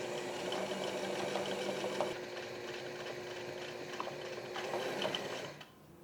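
A sewing machine stitches small buttonholes in fabric for an ironing board cover, a steady close mechanical whir with rapid needle ticks that briefly pauses and then slows to a stop.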